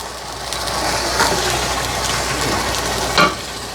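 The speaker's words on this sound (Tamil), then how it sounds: "நாங்கள் சூப்பராக தயிரெல்லாம் போட்டு நல்லா வதங்கி கொண்டு வருதுங்க" Curd and masala sauté in a pan for chicken biryani, a close, steady frying hiss with soft stirring scrapes and one brief clatter near the end.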